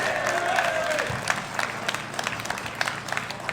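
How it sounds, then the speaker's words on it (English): Audience at an outdoor protest applauds a speaker coming on stage, steady moderate clapping with a little crowd noise and a faint whistle-like tone early on. "Big round of applause for Lewis!"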